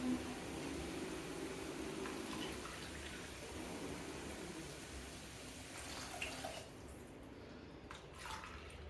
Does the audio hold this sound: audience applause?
no